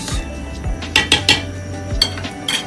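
A spoon stirs Afang soup in a metal pot, scraping and clinking against the sides in a few sharp knocks amid low bubbling, close and fairly loud, with no voices.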